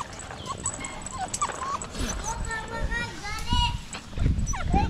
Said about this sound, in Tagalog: Yan pala kaki-alagang aso si Pepsi.